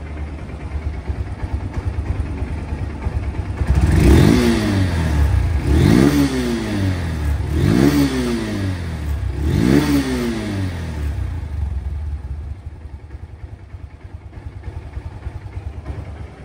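A Honda CB Hornet motorcycle with double disc brakes, revved hard four times in quick succession, each blip rising and falling back to a steady idle, loud and close with no talking.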